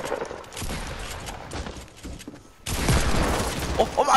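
Desert Eagle shots in Fortnite during a squad fight: dense, rattling gunfire and impacts, easing briefly before a louder, sustained burst of shooting takes over.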